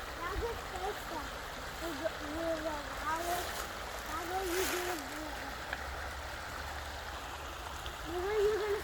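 Creek water flowing along a nature trail, a steady close rushing wash under a voice that talks intermittently, with a brief splashy surge midway.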